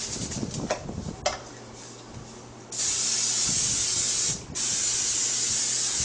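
A couple of short sprays, then a long continuous hiss from a cooking spray can held close over a grill with steak, briefly pausing before spraying again.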